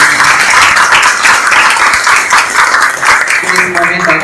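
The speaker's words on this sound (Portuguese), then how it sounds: "Uma salva de palmas para o nosso Senhor Jesus." A church congregation applauds in worship, a loud continuous wash of many clapping hands filling the room, with a brief tonal voice or music rising faintly near the end.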